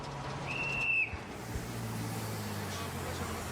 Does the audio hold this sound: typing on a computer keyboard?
no